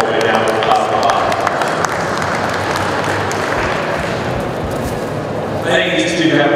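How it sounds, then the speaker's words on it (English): A crowd at a Holstein dairy cattle show ring applauds a Fall Yearling Heifer class, a loud, dense and continuous wash of clapping that holds steady for several seconds. "let's give this class a round of applause"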